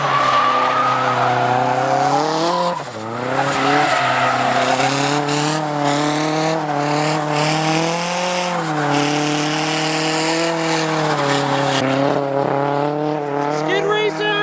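Long, continuous tire squeal from a car skidding, loud and sustained with shifting pitch, no talking over it.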